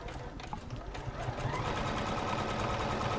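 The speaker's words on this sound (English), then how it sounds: "This is sewing at about half speed." A Juki F600 sewing machine runs a straight stitch at half speed, giving a steady, rapid mechanical chatter close up with no pauses.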